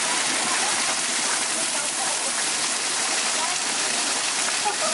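A waterfall at Hanging Rock pours in a loud, unbroken broadband roar of falling and splashing water, heard up close with no break throughout.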